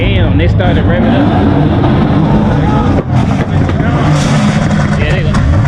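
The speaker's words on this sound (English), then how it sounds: "God damn, they started revving up." BMW cars revving their engines at a large car meet takeover, loud aggressive engine roars rising and falling up close, with people talking and exclaiming over the noise.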